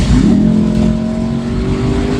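The V8 of a 2024 Lexus LC 500 Convertible gives a loud, close, deep rising rev, with the pitch sweeping upward and then holding a steady throaty drone.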